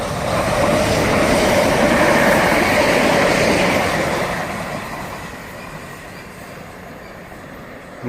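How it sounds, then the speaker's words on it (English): A Southern Class 377 Electrostar electric train runs through a station without stopping, a loud steady rush of wheels and motors that swells early and then fades as it draws away. "Just got a Southern 377 Electra Star, but that won't be stopping"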